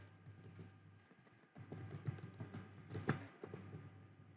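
Quick, quiet clicking of typing on a computer keyboard, in short bursts with a brief pause near the middle.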